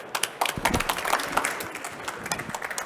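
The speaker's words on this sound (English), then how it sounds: "Please give them a warm applause" Scattered applause from a small audience at an agricultural conference session, a modest patter of individual claps, moderately loud and uneven, lasting a few seconds.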